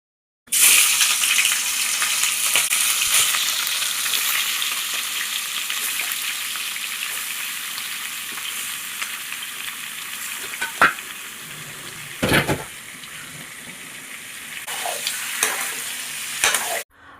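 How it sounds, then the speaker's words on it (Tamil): Chicken frying in oil with cinnamon and cloves in a pan, sizzling steadily throughout while being stirred, with occasional scraping and clinks of the utensil against the pan, close up and without talk. "எண்ணெய் ஊற்றி பட்டை, லவங்கம், தேவையான அளவு சிக்கன் எடுத்துக்கிட்டு நல்லா வதக்கிக்கணும்."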